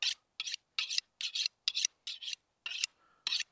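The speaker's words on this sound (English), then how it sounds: "A knife steel like this is not for sharpening." A knife edge is honed on a knife steel while butchering a lamb, giving about nine crisp, evenly spaced metallic scraping strokes, close and clear, with quiet gaps between each stroke.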